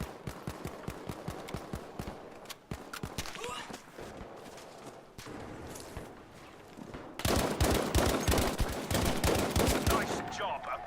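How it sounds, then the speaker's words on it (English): Rapid rifle gunfire in Battlefield V, with dense bursts of sharp shots that grow louder and faster toward the end, under intermittent game sounds. "there's a lot of recoil on this rifle"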